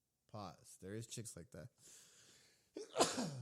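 Brief talk from a man is followed by a pause, then a single sharp, loud sneeze bursts out near the end.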